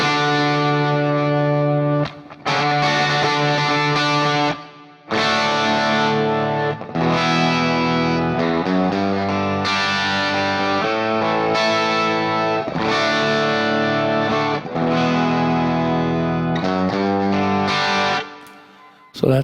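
Electric guitar through an Axe-Fx II preset with an octave effect, thick distorted tone with chorus shimmer and reverb; sustained chords and melodic phrases separated by brief gaps, loud and upfront, no voices.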